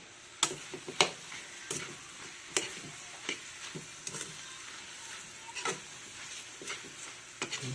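A spoon stirs a pot of dinuguang kuhol, snails cooked in pig blood, giving quiet, irregular clicks and scrapes as the shells knock against the pot, with a soft simmering hiss underneath.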